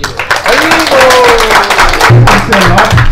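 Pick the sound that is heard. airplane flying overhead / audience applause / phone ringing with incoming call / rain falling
audience applause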